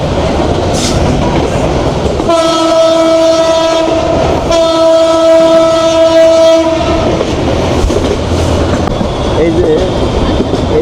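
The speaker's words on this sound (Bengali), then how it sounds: "গাড়িতে যখন হরেন বাজায় খুবই ভালো লাগে" Chattala Express train sounding a long horn blast in two sustained tones, loud and close, broken by a short gap, over the steady rumble and clatter of the moving train.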